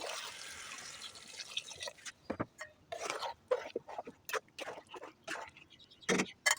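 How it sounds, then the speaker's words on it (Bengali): Water poured into a cooking pot of vegetable khichuri, heard as quiet, broken splashes and trickling pours with short gaps, fairly soft and close. "এখন আমি এর মধ্যে দিয়ে দিব পরিমাণ মতো পানি"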